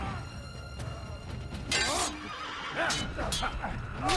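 A horse in the Assassin's Creed video game whinnies several times over a steady background, its neighs bright and close, with faint hoof clip-clop mixed in.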